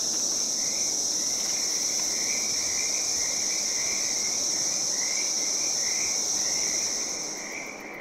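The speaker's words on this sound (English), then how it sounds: "Listen to the frogs." A chorus of frogs at a small pond in Farming Simulator 22 trills in steady repeating pulses, layered over a constant high insect-like drone. It plays on alone without talk and fades slightly at the end.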